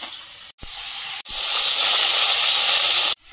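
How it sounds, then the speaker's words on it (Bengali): Loud, bright sizzle of fish frying in hot oil in a kadai, a close, continuous hiss broken by a couple of brief cuts to near-silence. "মাছগুলো ভাজা হয়েছে তুলে নেব"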